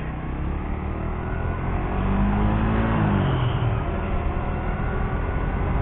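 A classic car passes by on a road. Its engine drone swells and its pitch drops as it goes past the listener, over steady traffic noise.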